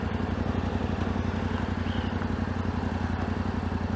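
A 2025 Yamaha Ténéré 700 motorcycle cruising on a road carries a steady, droning engine note with wind rush, loud and continuous without any speech.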